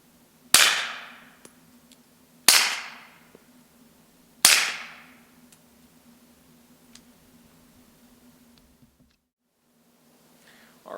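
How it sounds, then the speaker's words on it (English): A suppressed 9mm Glock 19 fitted with an AAC Evolution silencer fires three evenly spaced shots about two seconds apart, each a sharp close crack with a short decaying tail over a steady low hum. "So we'll fire off a couple of rounds and see how quiet this thing is."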